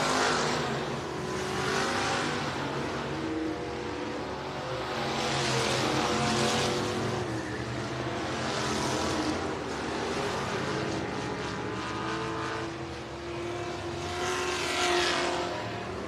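A late model race car roars around an oval track, its engine swelling and fading in repeated loud passes over a continuous rushing drone, with no voices.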